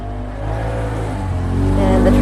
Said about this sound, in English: the traffic is really, really loud out here